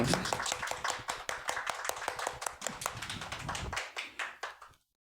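A church congregation claps after a sermon, a crisp, fairly close patter of many hands with a loosely rhythmic beat that carries for several seconds before stopping abruptly.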